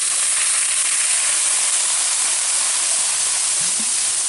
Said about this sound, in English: I'm going to add in some of the Coca-Cola.